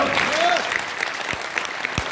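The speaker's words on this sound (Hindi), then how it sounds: "कम से कम ताली को बजा दो" A seminar audience at an online and MLM business event breaks into brief clapping, with a voice speaking over it.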